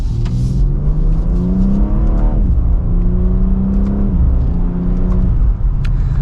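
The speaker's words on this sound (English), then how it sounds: "Let's give it another acceleration here." A 2024 BMW X3 M Competition SUV accelerates hard from inside the cabin, its engine rising in pitch through the gears with brief dips at the shifts, a loud steady rumble throughout.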